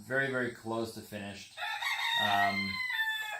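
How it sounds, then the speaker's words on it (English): A rooster crows close by in several loud, drawn-out calls. Someone speaks briefly between the crows. "Always have to pause whenever the rooster's crowing."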